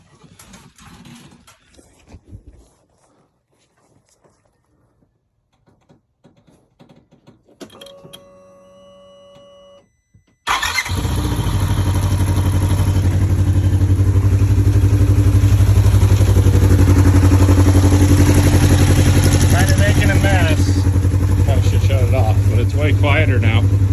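Polaris RZR 1000 engine running after a timing fix, starting partway through and holding a loud, steady idle drone close by, preceded by quieter clicks and handling noises.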